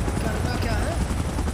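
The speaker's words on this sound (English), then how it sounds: "Chopper in position." Helicopter rotor thrumming steadily in a Godzilla video game during an evacuation, a dense continuous low drone with loud game audio layered over it.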